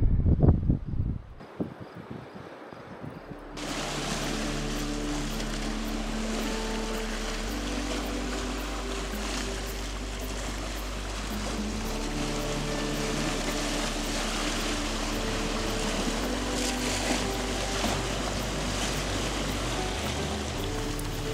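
Wind blowing across Georgian Bay on the Fox Islands makes a steady, dense roar that buffets the microphone continuously for about twenty seconds after a brief quieter start, with no voices.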